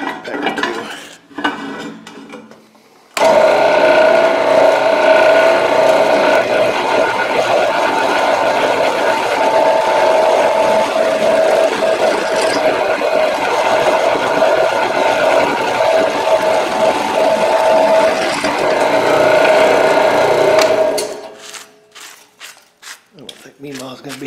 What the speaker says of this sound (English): think we ought to slow the drill press down just a tick